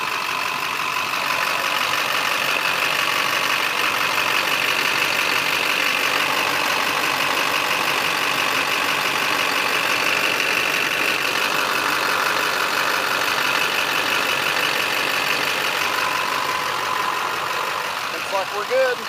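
A Duramax diesel truck idles after a fuel filter head rebuild, a steady loud engine drone holding even throughout, with speech at times over it.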